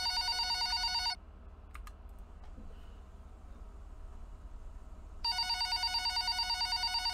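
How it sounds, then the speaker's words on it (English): A telephone rings in the FNAF Revelations fan-made horror game, loud repeated electronic bursts at the start, then a quiet pause with a few faint clicks, then the ringing resumes. "Oh, we got a phone call already."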